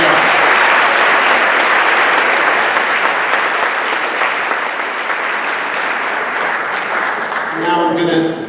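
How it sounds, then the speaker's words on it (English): Loud, sustained applause from an audience at a school board of education meeting rolls on for several seconds, thinning toward the end as a voice begins speaking. "round of applause for these two"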